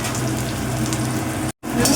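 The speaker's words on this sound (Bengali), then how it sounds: "এই যে আমরা এটা ভেজে নিই" Cauliflower, peas and potato frying in oil for a samosa filling, a steady close sizzle and crackle with a brief dropout near the end.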